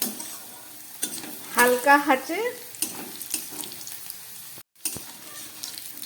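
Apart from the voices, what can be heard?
frying potato pieces in a pan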